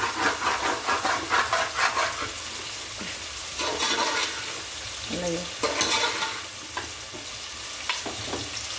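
Curry sizzles and fries in a pan with salt and chilli powder, a steady close hiss broken by stirring scrapes and clatters across the whole stretch, with no voices.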